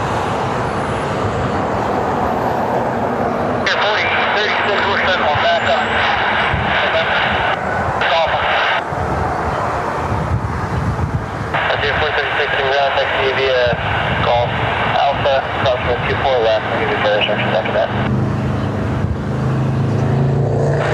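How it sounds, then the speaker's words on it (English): An Aer Lingus Airbus A321neo jet departs Cleveland Hopkins airport, its broad engine roar building and holding steady for the length of the clip while a voice talks over it. "Aer Lingus 9 Lima Tango lining up for departure, heading over to Dublin."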